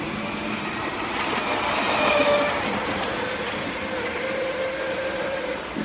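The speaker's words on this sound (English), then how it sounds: "so let's put the train on" A LEGO toy train runs along its plastic track with a steady mechanical rumble and a faint whine from the motor, heard near and constant for several seconds.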